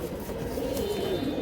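A Giribaz silver pigeon coos softly in a low, continuous murmur, close by, over faint background hiss and no speech.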